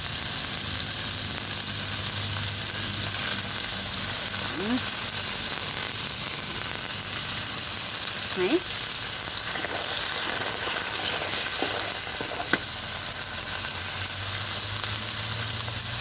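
Holy basil and snails stir-fried in a pan over a wood fire, a continuous soft sizzle with occasional scrapes and clinks of the spatula, fairly quiet throughout.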